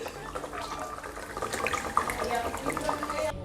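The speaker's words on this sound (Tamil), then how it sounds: "இங்கே தண்ணி ஊற்றிக்கலாம்" Water runs and splashes into a bowl at close range, a steady pouring stream with small clinks, no voices.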